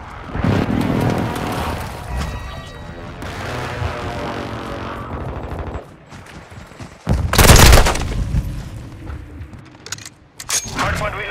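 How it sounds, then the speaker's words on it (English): Explosions from a friendly airstrike roar through a Call of Duty Hardpoint multiplayer match, mixed with game gunfire and radio-style voice callouts, and one heavy, loud blast lands near the middle. "Friendly airstrike in the AO."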